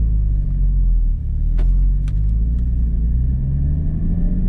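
A Porsche GT4 race car engine drones steadily while driving, a loud low rumble that climbs gradually in pitch under acceleration, with a few faint clicks from the cabin and no talking.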